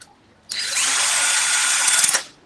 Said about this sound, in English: I'm over here with this drill in my head.